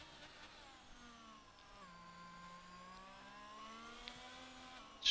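A Formula 1 race car engine in the F1 22 video game at the Australia circuit, a steady mid-pitched drone with gradual pitch shifts and gear changes, continuous and moderately loud throughout.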